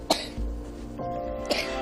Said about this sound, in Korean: 기침이 밤새 더 심해졌습니다